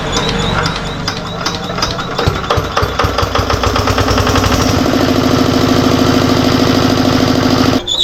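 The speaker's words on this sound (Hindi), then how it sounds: "फिर से जनरेटर को चालू करते हैं और देखिए हमारी इंजन जो होगी" A repaired generator engine runs freely after being restarted, a loud, steady mechanical chugging that builds slightly and continues alone before cutting off abruptly near the end.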